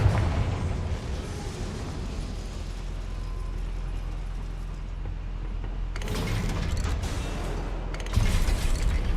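A Confringo blasting spell detonates inside a goblin mine in the Hogwarts Legacy video game. Two sharp, booming bursts ring out over a low, steady rumble of cavern ambience.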